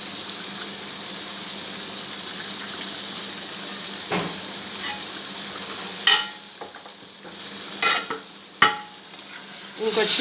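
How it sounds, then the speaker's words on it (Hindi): Chicken sizzles and fries steadily in oil in a karahi, a continuous moderately loud hiss with a few sharper clatters of stirring near the end. "हमारा चिकन साथ साथ रोस्ट हो रहा है बहुत अच्छा सा"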